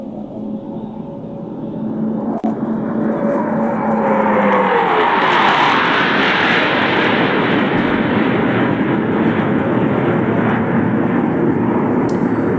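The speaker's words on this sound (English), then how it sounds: "They'll climb up through vertical under heavy G as they perform the very difficult 5-plane line abreast loop" Jet aircraft engines roar in a five-plane formation flying a line abreast loop, the sound swelling from a fading tone into a broad, loud, sustained rush that holds steady to the end.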